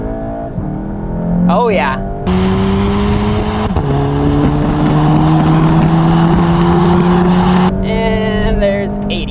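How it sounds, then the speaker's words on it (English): VW MK7 GTI with an Invidia Q300 exhaust launching at wide open throttle, a loud rising engine roar climbing through gears with brief drops at shifts, heard from inside the cabin, with a short spoken remark near the start. "let's see how she sounds wide open throttle"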